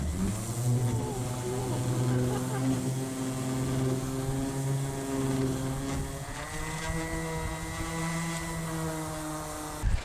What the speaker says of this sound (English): So now we'll just try to get the rest of this out in the middle here with the sander.